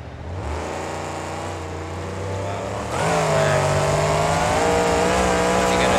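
Max D monster truck at a Monster Jam show in Brisbane, its engine roaring loud and close, holding a steady drone and then rising to a harder, higher rev partway through.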